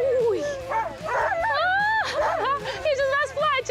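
Sled dogs in a harness team yip, whine and bark excitedly and continuously, close by, with a voice talking over the commotion.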